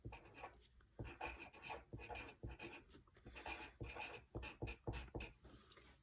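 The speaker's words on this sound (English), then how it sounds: "So go ahead and write your name in a pencil." A pencil writes a name on paper, close and quiet: a series of short scratchy strokes in an irregular rhythm, with brief pauses between letters.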